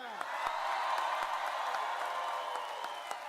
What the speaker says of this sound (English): it's not every day a Lions fan gets that kind of applause in Green Bay